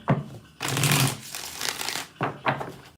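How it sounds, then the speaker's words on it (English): A deck of reading cards is shuffled close by, with a short riffle followed by longer crisp bursts of rustling and flicking, then two more quick riffles. "Let's get 5 shuffles."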